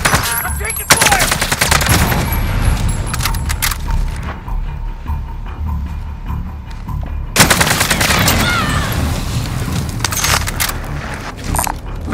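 Loud rapid gunfire from a Warzone battle royale match on Rebirth Island crackles in dense bursts, pausing briefly midway before another heavy volley resumes.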